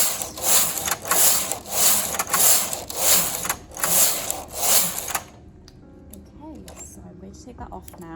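A knitting machine carriage sweeps across a row of mercerized cotton in a lacy knit, loud rhythmic swishing and ratcheting passes for about five seconds, then quieter handling with a voice speaking.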